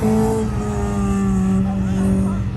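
A Toyota MR2 with its engine mounted mid-chassis runs hard through an autocross course at a race weekend. The engine holds a steady, loud, sustained drone throughout, with a commentator talking over it.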